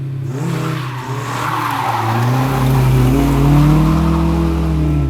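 A Honda-swapped Toyota AE86 Trueno from the 1980s revs loudly and close, the engine note climbing and holding steady with a touch of tire noise, with no voices.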